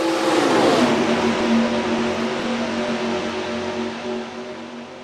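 A pack of stock cars in the NASCAR Racing 2003 video game roars off at the green flag at Hillside, with loud engines revving and pitching upward together in one dense, continuous drone.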